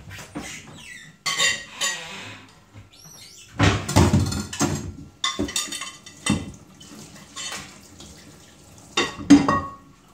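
Raw chicken is rinsed under a running kitchen tap, with bursts of splashing water broken by clatters and knocks of dishes and handling.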